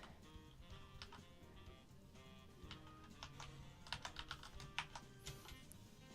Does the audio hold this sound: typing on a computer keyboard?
yes